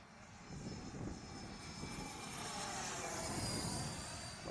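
An EDF model jet aircraft flying past in a long slow roll, its ducted-fan whine rising and swelling steadily as it nears, a continuous airborne rush with no talk.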